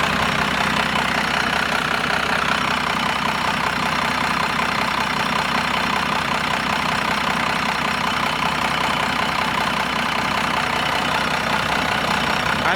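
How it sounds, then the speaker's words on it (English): A warmed-up 1992 Dodge 2500 4x4 pickup engine idles steadily nearby, a continuous even rumble with a slight knocking texture and no voices. "And the motor is good and warmed up right now."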